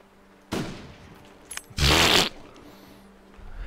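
Two loud, sharp rifle shots in the survival video game The Long Dark, each with a brief crack and a short tail, the second heavier and longer than the first.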